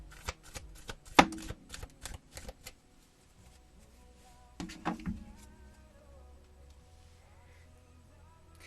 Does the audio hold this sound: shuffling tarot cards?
yes